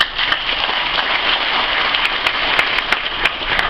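Audience clapping at a graduation ceremony, a steady, dense patter of many hands applauding loudly and evenly throughout, with no talk over it.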